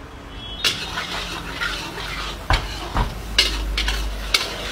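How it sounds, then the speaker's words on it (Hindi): Chopped tomatoes fry with spices in a pan, with steady sizzling broken by a few sharp spoon-on-pan stirring clicks up close; no one speaks. "इसमें हम टमाटर को थोड़ा सा भूनेंगे"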